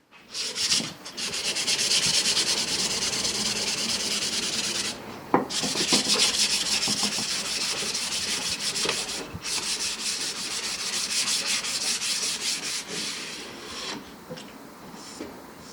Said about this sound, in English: Sand the handle smooth to the desired grit.